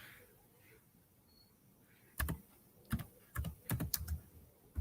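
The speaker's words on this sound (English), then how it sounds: "I'm going to type this in the chat" Bursts of typing on a computer keyboard, close and fairly loud, in clustered taps after a quiet stretch, with no voices.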